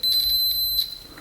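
A multimeter on continuity test beeps while its probes bridge a fuse on a 1967 Honda Dream motorcycle: a single steady, high electronic tone, close and clear, holding for about a second before cutting off.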